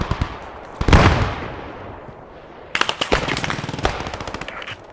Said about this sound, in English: Oh, it's an MG.